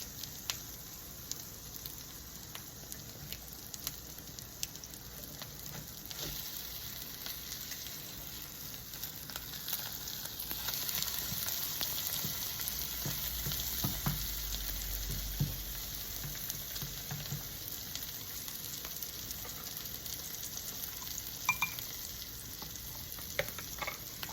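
Spinach omelette frying in a warm skillet, a soft, steady crackling sizzle with small pops, close but fairly quiet and uninterrupted by voices.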